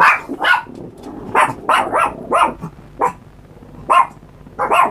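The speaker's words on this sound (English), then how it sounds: "That's the dogs talking to each other again." Two or more dogs bark back and forth at a home, close and loud, with a string of sharp, repeated barks in an uneven rhythm and no talking.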